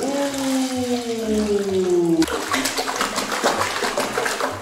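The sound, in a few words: water splashing in a bathtub during a child's bath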